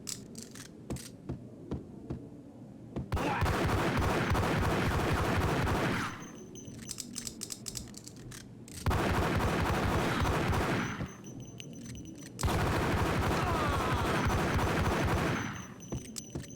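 Bursts of gunfire from the video game Max Payne come in three long, loud sustained volleys of rapid shots, separated by short quieter gaps and preceded by a few scattered single shots.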